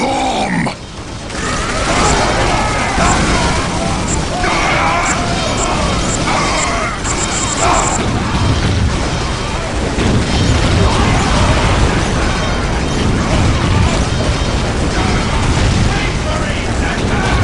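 A bomb explodes in the strategy video game Dawn of War: Dark Crusade, a loud, sustained roar of blast and crashing debris that goes on and on, with game voices mixed in.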